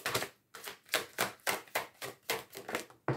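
A tarot deck is shuffled in repeated riffling bursts, about eight brisk papery flutters in a quick regular rhythm. The sound is close and fairly quiet, and no one talks over it.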